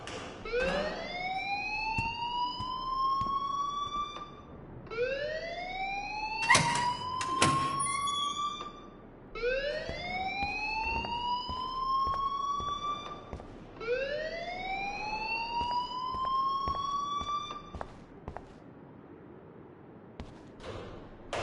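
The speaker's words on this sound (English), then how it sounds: "please turn off that alarm since that's your job" An alarm in a video game wails as a siren that rises and sustains in four long cycles, each about four seconds, with clanking thuds mixed in partway through, moderately loud and steady.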